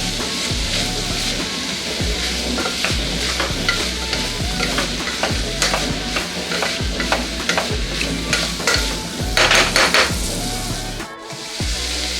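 Horse gram palya being stirred and fried in a pan, a steady loud sizzle under repeated scraping strokes of a spoon across the pan, continuous and close.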